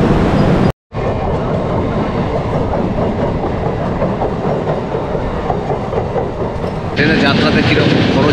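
A passenger train leaves Chennai bound for Mandapam, a loud continuous rumble with rhythmic clickety-clack of wheels over rail joints that runs nearly the whole time, broken by one brief cut.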